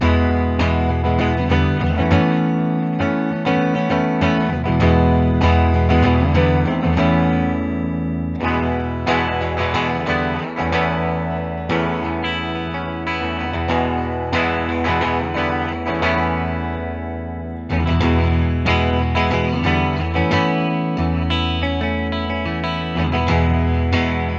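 A 2010 Gibson Jonas Brothers Signature electric guitar on its warm, thick P90 neck pickup plays sustained overdriven chords and riffs through an amp, loud and continuous with slight effects.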